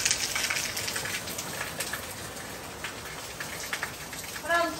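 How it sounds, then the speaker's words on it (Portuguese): Heavy rain in Guarujá pours down in a dense, continuous hiss with scattered louder drops and splashes throughout, fairly close and loud, with a short tonal sound near the end. "É muita, mas muita chuva mesmo."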